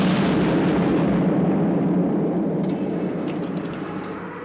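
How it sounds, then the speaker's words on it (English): A blast forcing a door open in a Captain Scarlet episode set in New York: a loud, broad explosive roar that slowly decays, with a thin high electronic tone entering near the end. "One little bang in the right place, and she's open."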